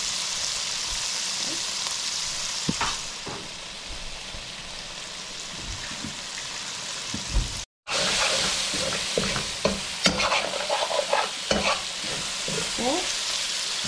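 Shrimp frying in a pan, a dense close sizzle throughout with scattered stirring scrapes and taps, briefly cutting out near the middle before resuming.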